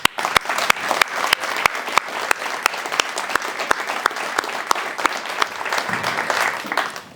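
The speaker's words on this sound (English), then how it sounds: "Please join me in another round of applause for all of our students," Audience at a school award breakfast applauds its students with a steady, dense wash of clapping, sharp individual claps standing out close by, for about seven seconds.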